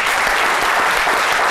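Loud, dense applause from a standing audience, steady and sustained throughout with no voices breaking through.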